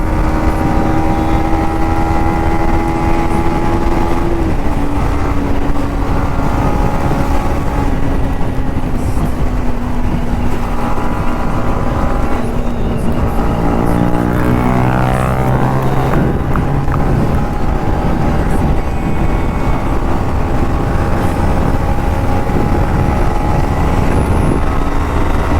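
Yamaha R15M, MT-15 and Bajaj NS200 motorcycles race on the street at night, a loud continuous engine roar with pitch rising through gear changes and wind rumble throughout.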